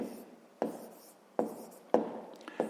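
Marker or chalk strokes on a board while numbers are written out for a sixth-grade maths exercise: four sharp tapping onsets, each trailing into a short scratchy stroke, close and clear, with no talking.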